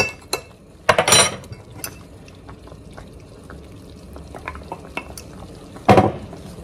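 A spoon stirs thick gravy stew in a pot, giving a couple of loud metallic clanks and a quieter scrape and clink in between, up close.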